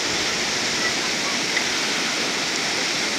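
Running stream water rushes loudly and steadily as two people wade across to help someone over, a constant broad wash with no clear splashes standing out.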